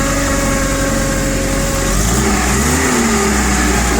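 A TCM FG15 1.5-ton forklift engine runs close by, its loud, steady idle even and unbroken for the whole stretch with no talking.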